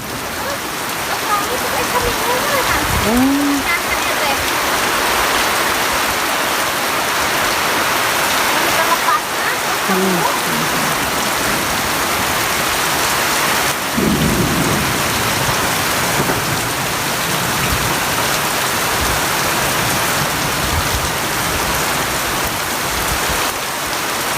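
Heavy rain pours steadily on surfaces in a remote village, driven by wind, with low rolls of thunder and people talking intermittently over the downpour.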